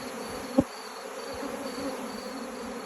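Honeybees buzz in a close, steady drone, a thin sustained whine with a single sharp tap early on, and no voices over the hum.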